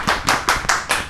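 Rhythmic clapping as a singer is welcomed on stage at a musical show, five loud, evenly spaced hand claps close up, with no voices over them.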